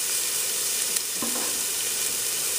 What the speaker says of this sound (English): and that's exactly how it's supposed to sizzle.